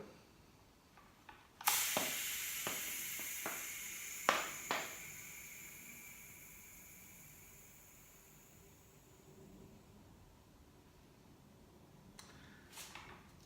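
A rush of 160 psi air is released into a road tubeless tyre, with a sharp burst of hiss followed by several distinct, quick pops as the beads seat. The hiss then fades slowly into quiet, with a couple of faint ticks near the end.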